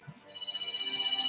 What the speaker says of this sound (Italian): Ultima telefonata in arrivo.